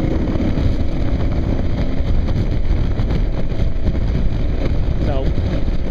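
A Kawasaki KLR motorcycle accelerates along a road, its engine droning low beneath heavy, steady wind buffeting, with the pitch climbing briefly near the end.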